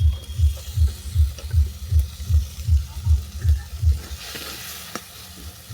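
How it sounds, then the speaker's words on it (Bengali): Burnt tomato, chopped onion and bean mash sautéed in a pan for a bhorta, a rhythmic low thumping stir repeating about twice per second over soft sizzling, then easing into quieter frying. "আরও 2 মিনিট এটাকে আমি ভালো করে কষিয়ে নেব।"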